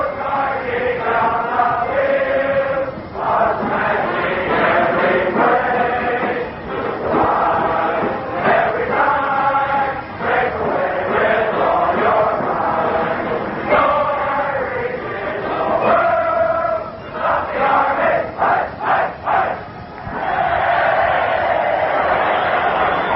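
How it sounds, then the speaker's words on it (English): Army cadets singing in unison while a marching band plays in a packed Yankee Stadium in New York City at a football game, the massed voices and brass blending loud and continuous with brief dips between phrases. "The Cadets start to sing, the band starts to play"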